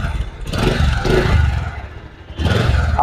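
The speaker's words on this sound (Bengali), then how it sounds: "বাইকটার আমি আপনাদের একটু স্টার্ট দিয়ে একটু সাউন্ডটা শুনিয়ে দিচ্ছি" A used motorcycle engine idling after a start, a loud close rumble with uneven revving that dips briefly before picking up again.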